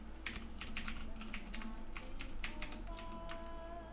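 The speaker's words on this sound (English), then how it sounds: "loud keyboard typing" Steady, loud computer keyboard typing, rapid clacking keys continuing throughout with no talking.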